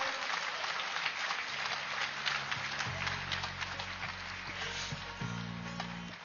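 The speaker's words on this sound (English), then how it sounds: "can we have a huge round of applause to all the volunteers" An audience claps steadily in a dense, sustained round of applause, with a low tonal hum running underneath.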